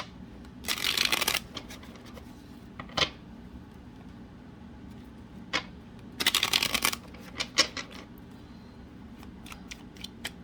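Tarot cards are shuffled in two loud riffling bursts, each about a second long, with scattered single card taps and flicks in between against a quiet room background.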